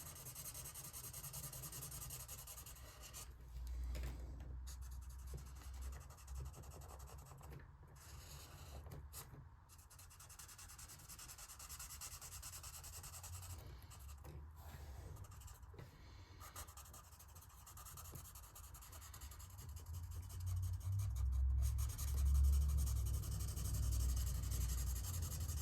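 A pencil rubs steadily across paper while palm trees are colored in, a soft, faint scratchy shading that goes on continuously and in one direction, with no voices.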